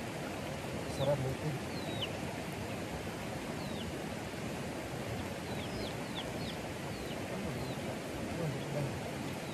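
Steady hiss of rain falling close by, with a few birds chirping over it and a brief spoken remark.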